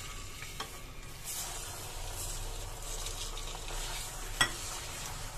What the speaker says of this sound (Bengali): মশলাগুলো দেওয়ার পরে তেলটা কিন্তু ফুলে উঠেছে